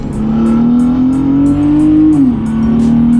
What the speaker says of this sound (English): Go down to second gear. That's mainly what I do my pulls in.